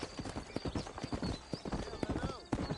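Rhythmic clip-clop of horse hooves trotting close by in Red Dead Redemption, steady and quick, with a brief snort and someone talking over it.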